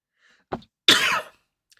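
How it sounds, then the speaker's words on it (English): A short throat-clearing sound followed by a single harsh cough, close and fairly loud, then quiet. "Oh, tickly cough."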